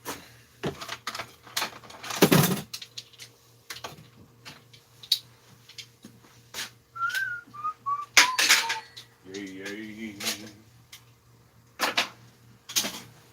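A person whistles a short tune while working in a kitchen, brief melodic phrases rising over clinking dishes, cutlery taps and scattered knocks, with occasional talk nearby.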